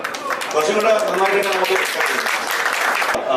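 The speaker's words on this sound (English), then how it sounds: "A huge round of applause for the whole team of Ponniyin Selvan." A crowd at a film press event in Kerala applauds the Ponniyin Selvan film team with steady, continuous clapping that stays loud throughout, while a voice talks over it.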